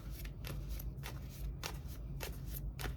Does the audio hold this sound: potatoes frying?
no